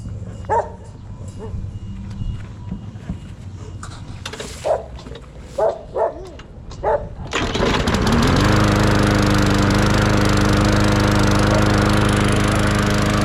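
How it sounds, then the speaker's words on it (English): A fuel-starved push lawn mower being repaired: dog barks ring out in the first half over quiet ground, then the small engine catches and roars steadily, loud and close, through to the end. "We're gonna put the rest of this back on and then we'll start the video up as we try to start it."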